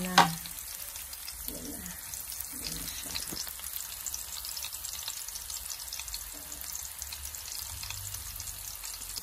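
Ginger frying in a pan is stirred, giving a continuous soft sizzle with a sharp utensil clank at the very start and faint stirring scrapes afterwards, with no speech.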